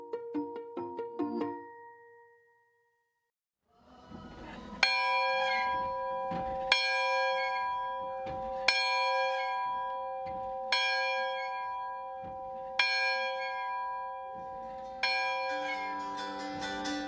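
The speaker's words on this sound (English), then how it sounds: "A church bell rings on a hillside" A church bell on a hillside tolls at a slow, steady rhythm with long ringing decays, preceded by a brief burst of faster higher chimes and a short pause, clear and moderately distant.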